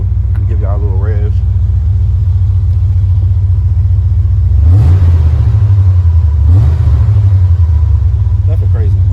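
A Monte Carlo SS with Flowmaster 44 exhaust idles in a deep, loud rumble and is revved twice, a person speaking briefly over the idle at first.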